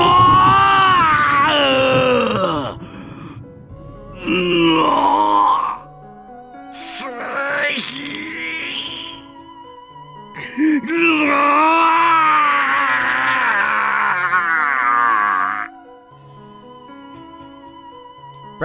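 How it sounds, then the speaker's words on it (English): In a Japanese visual novel game, a man screams and groans in long, loud, anguished bursts as lightning strikes him repeatedly, with brief pauses between cries and a quiet sustained musical tone underneath. "Bright red flashes of lightning smashed Kinzo over and over again as he screamed"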